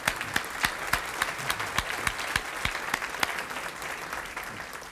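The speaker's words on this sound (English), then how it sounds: "Let's give them all one more big round of applause." Luncheon guests at a Waco ISD Education Foundation honor event give a big round of applause for school partnerships, with many hands clapping steadily and a few sharp, louder claps standing out near the front.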